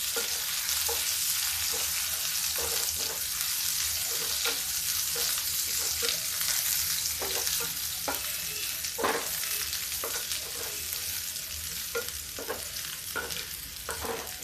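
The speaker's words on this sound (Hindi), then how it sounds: "इसके बाद हम इसमें डालेंगे लहसुन प्याज का पेस्ट।" Garlic, onion and ginger paste sizzling steadily in a pan for a kabuli matar curry, with a constant bright frying hiss and repeated scrapes of a spoon stirring, close by and without talk.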